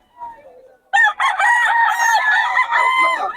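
A Sweater bloodline gamecock rooster crows loudly and close, one long strained call following a faint lead-in, with a voice faintly in the background.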